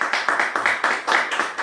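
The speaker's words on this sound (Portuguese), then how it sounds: "Dê uma salva de palmas para o Senhor" A church congregation claps in a steady, rhythmic unison beat at an evangelistic miracle campaign service, the sharp hand claps repeating about every quarter second, loud and close with no talking.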